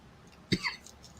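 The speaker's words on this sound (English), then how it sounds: "nagging cough still won't go away" A single person's cough, one short sharp burst with a brief throaty follow-up, close and clear against a quiet background.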